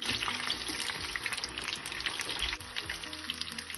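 Corn fritters frying in a pan of oil give a constant close crackling sizzle with small popping bursts, steady throughout and slightly settling near the end, with no voices.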